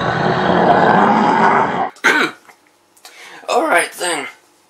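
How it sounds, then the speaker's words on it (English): A man clears his throat once, a short rough burst right up close, after a stretch of steady broadband noise, followed by a couple of brief vocal sounds. "Just need to clear my throat."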